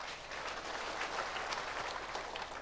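A church congregation bursts into loud applause, a dense continuous wash of many hands clapping at once, steady for a few seconds with no voices on top.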